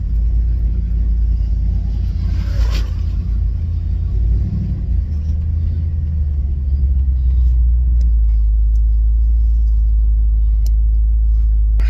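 An LS-swapped G-body car idles with a heavy, steady low rumble close by, with a slight misfire, one brief sharper burst early on and faint clicks later.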